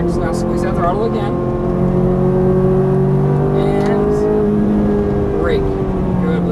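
Ferrari F430 F1 accelerating on a race track at Exotics Racing Los Angeles, its engine note rising steadily and loud under an instructor's continuous talk.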